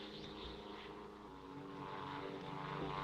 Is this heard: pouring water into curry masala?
no